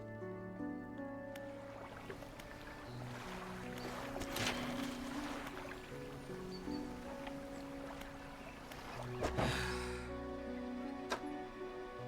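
A small fishing boat's engine in the video game DREDGE hums low and steady under faint water lapping and soft musical tones, quiet and distant throughout.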